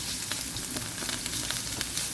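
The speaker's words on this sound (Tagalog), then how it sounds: "Mag-gisa na tayo ng bawang, sibuyas at luya." Garlic, onion and ginger sautéing in hot olive oil, a close, steady sizzle with small crackles and occasional stirring taps throughout.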